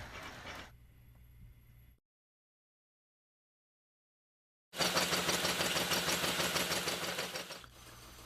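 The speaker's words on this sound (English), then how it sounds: "we can go back to the lathe and we'll actually remove the excess from the center of this hub" A lathe turns a wooden wagon wheel hub to remove excess from its center. A steady mechanical whir gives way to a silent gap, then a loud continuous spinning roar runs for several seconds before dropping back.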